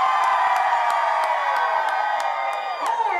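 A crowd at a Halloween costume contest in Orlando cheers and whoops loudly and continuously, with shouts and whistles layered over a sustained roar throughout.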